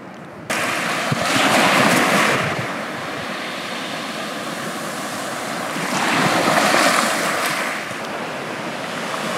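Waves rolling onto the beach at Diano Marina on the Italian Riviera, two broad swells of surf rising and falling over a constant wash of water and light wind, with no voices.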